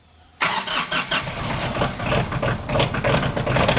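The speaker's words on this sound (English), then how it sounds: "while that very cold tractor warms up" A very cold tractor engine cranks and catches on chilly outdoor morning air, then settles into a loud, uneven idle as it warms up, with no speech.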